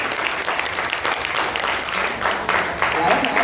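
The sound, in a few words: audience applause at a lecture demonstration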